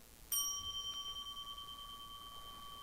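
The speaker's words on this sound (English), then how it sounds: "Maybe you ring a bell" A single struck bell rings out clearly, a sharp metallic strike followed by a long, steady shimmering tone that slowly decays over a couple of seconds, alone in a quiet room.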